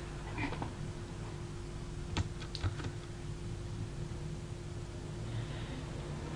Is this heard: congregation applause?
no